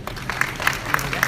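Audience applause at the IIFA 2017 awards ceremony, a scattered patter of hand claps with a few sharper, louder claps standing out, heard beneath a speaking voice.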